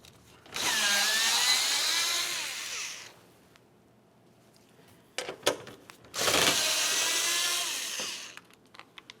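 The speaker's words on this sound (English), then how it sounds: "We'll use a 10mm to remove both of our mounting bolts and then the bracket." A 10mm socket on a power tool drives out the front license plate bracket mounting bolts on a 2004-2015 Nissan Titan, giving two loud whirring bursts of several seconds each, with clanks and taps between them.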